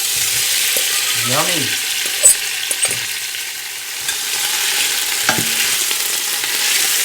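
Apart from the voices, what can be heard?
lamb meat frying and being stirred in a big pot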